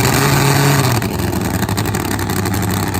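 Top Fuel nitro-burning drag motorcycles roar loudly at a drag strip, a harsh continuous engine blast with a slight drop in pitch partway through, close and dominant with no talk.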